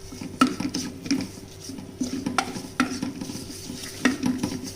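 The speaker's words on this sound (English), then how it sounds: "again we need to stir it continuously because we don't want the gram flour to get burnt" Spoon stirring gram flour as it roasts in a pan, scraping with a steady repeating rhythm over a soft background sizzle, close and moderately loud, with occasional sharper clinks against the pan.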